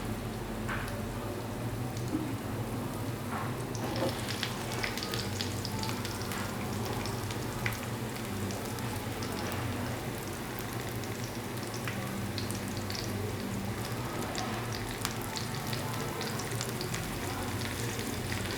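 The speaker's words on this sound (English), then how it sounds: "Now the pears are coming along quite well, so I'm going to add the mushrooms now." Pears and a mix of Asian mushrooms sauté in a pan, giving a continuous dense sizzle and crackle that holds steady throughout with faint stirring, no talking.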